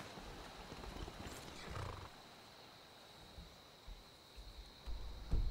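A horse in the Skyrim video game gallops with muffled, soft hoofbeats under a steady game hum, building to a louder thud and snort near the end.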